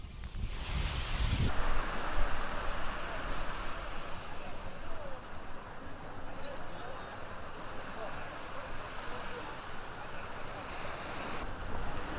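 Surf rolls onto Hiriketiya Beach in Sri Lanka as a continuous broadband wash with wind noise on the microphone, a brief louder gust at the start, moderately distant and steady.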